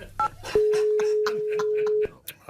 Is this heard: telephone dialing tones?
yes